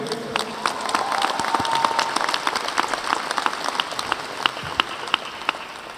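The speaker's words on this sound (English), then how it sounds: "can we get a round of applause to our parents to show our gratitude?" Scattered audience applause for parents at a commencement ceremony, moderately loud with distinct individual claps standing out over a soft crowd background.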